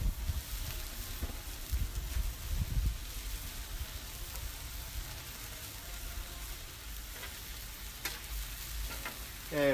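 Green onions sizzle on a hot Blackstone griddle, a steady broadband frying hiss with occasional crackles and scraping, continuous and close throughout with no talking.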